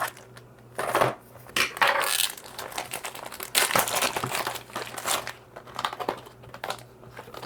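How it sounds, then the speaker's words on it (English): Plastic packaging of Pentel pastel brush pens crinkles and crackles up close in uneven bursts as it is torn open and unwrapped, with no talking. "Let me go ahead and unwrap"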